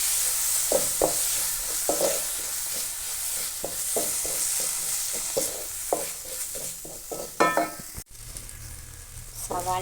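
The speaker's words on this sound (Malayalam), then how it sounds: "നമുക്ക് തക്കാളി ഇട്ട് കൊടുക്കാം" Tomatoes stirred into a pan of fried chilli and coriander powder for kadala curry, with steady sizzling under a regular series of scraping spoon strokes, a louder clatter near the end and a brief sharp knock before the frying continues.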